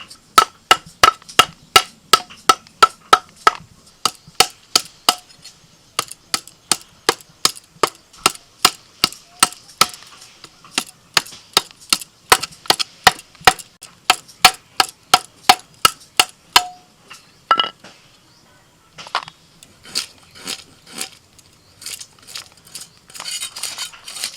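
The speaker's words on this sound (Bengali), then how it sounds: "আর এই কাঠ দিয়ে একটু ঠোকে ঠোকে কাটলে না তাহলে বুটির ধারটাও কমে যাবে" A boti blade struck again and again with a wooden piece to cut through a large fish in a home kitchen, giving a fast run of sharp, close knocks that falter and thin out toward the end.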